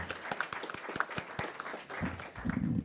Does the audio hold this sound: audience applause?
yes